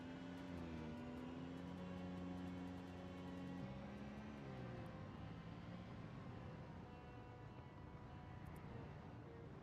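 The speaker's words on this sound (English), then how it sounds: "This car is pretty loud though" A loud car engine drones steadily in the video game Project Zomboid, a sustained hum with a pitch that steps down partway through as the vehicle drives on, with no voices.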